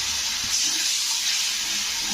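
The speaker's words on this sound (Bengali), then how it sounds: "এবারে দিয়ে দেব সামান্য একটু জল।" A small splash of water poured into spices frying in oil in a pan, a steady hissing sizzle that holds evenly and close throughout, with no voice.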